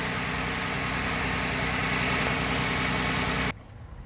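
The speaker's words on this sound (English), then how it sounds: "that's what that little tapping rattle in the engine" A car engine idles steadily with a light lifter tapping rattle, a loud continuous mechanical hum close by that cuts off abruptly near the end.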